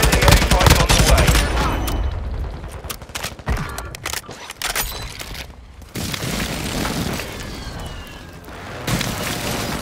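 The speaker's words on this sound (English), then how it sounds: "Friendly airstrike on the way." Airstrike explosions from Call of Duty: Modern Warfare II roll through in loud booming waves, layered with rapid gunfire crackle and dense battle noise that swells, dips briefly, then surges again.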